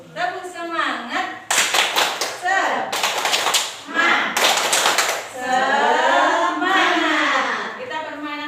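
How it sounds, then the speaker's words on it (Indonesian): Schoolchildren in a classroom doing a rhythmic spirit clap, bursts of loud synchronized hand claps alternating with group chanting, the voices and clapping close and energetic. "Tepuk semangat."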